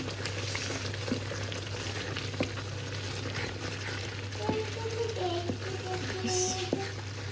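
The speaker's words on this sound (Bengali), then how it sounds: "এটা এখন একদম ফ্রাই হয়ে আসছে, ভাজা ভাজা উপরে তেল ভেসে আসলেই" A steady, crackling sizzle of spices frying in hot oil for a goat brain curry with green chili, with occasional scraping stirs against the pan, close and continuous.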